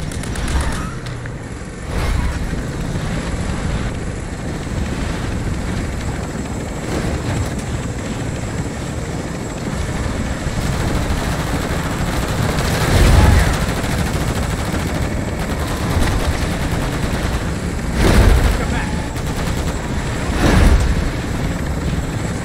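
Gunfire in the game Call of Duty: Modern Warfare 3 Zombies: loud bursts of shots break out repeatedly over a steady, droning helicopter rotor, with the heaviest volleys near the end.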